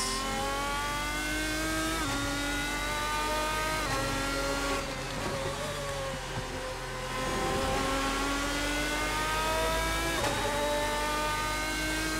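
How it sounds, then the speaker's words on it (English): A Lamborghini V12 racing car engine in the Assetto Corsa video game screams at high revs, with quick pitch drops marking gear shifts every couple of seconds, loud and unbroken. "Freaking love the shift sounds"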